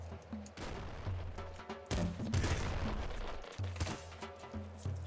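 Doom pistol in the game Nuclear Throne firing rapid bursts of blasts over a looping game soundtrack, with loud, dense, overlapping shots and booms.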